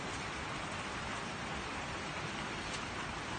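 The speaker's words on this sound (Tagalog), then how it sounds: "Kasi actually kanina pa naulan dito." Steady rain falling in Israel, heard as a continuous soft hiss of drops at an even, fairly faint level throughout, with no voices.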